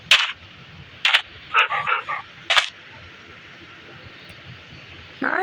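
A dog in a crafting video game barks in short, sharp bursts, two or three single yaps, then a quick cluster of softer yips, then another bark over a steady low background hum.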